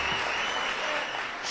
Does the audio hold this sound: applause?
yes